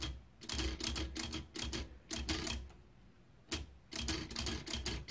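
A typewriter that keeps jamming now and then clacks in quick bursts of keystrokes, close and crisp, with short pauses between runs.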